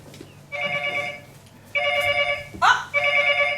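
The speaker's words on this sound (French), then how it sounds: "Ah! Téléphone!" An old-style telephone bell rings in two or three bursts of harmonic tones, with short pauses between them, heard in a stage setting with a brief vocal exclamation in between.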